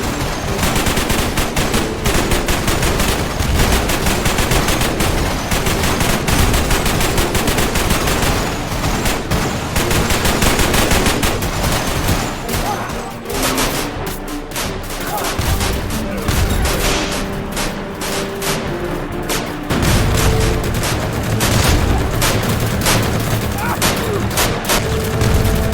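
Dense World War II battle in a VR game: continuous rapid gunfire and machine-gun bursts mixed with booming shell explosions from tanks, loud and sustained throughout with barely a pause.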